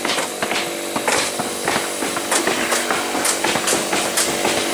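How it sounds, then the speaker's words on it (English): Dense, irregular banging and knocking from several hammers at once on a roofing job site, loud and continuous, with clattering metallic hits over a busy outdoor background. "A lot of hammering going on."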